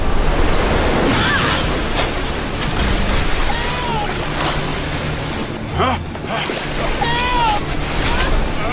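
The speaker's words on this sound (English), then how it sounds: "Hey, it's the dam! Huh? Hey! It's about to break." Water rushes loudly from a breaking dam in an animated episode, a heavy continuous roar of surging flow with brief exclamations from characters heard over it.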